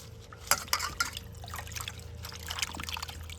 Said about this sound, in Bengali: এখান থেকে কিছুটা পাতা নিয়ে নেব, নিয়ে এই জলের মধ্যে ধুয়ে নেব।